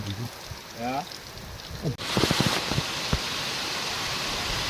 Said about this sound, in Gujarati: અત્યારે વરસાદ આવે છે ધોમ તમે જુઓ